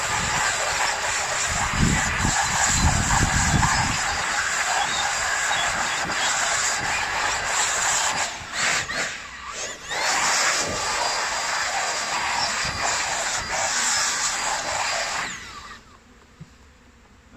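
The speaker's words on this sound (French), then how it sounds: "Cette ruche est récoltée, donc il n'y a plus qu'à finir de la souffler." A quiet electric blower runs steadily to clear bees from a harvested spring honey hive, its broad whirring hiss holding for about fifteen seconds before cutting off, with a few low thumps early on.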